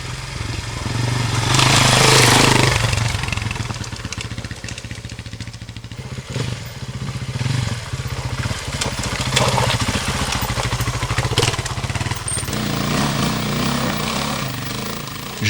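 A Sherco 450 i.e enduro motorcycle engine runs with a rough, clattering, thumping idle and revs that rise and fall, loud and close, with no talk.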